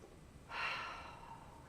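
A single slow, deep breath drawn in and let out during a calm relaxation exercise, soft and close, heard alone against a quiet background.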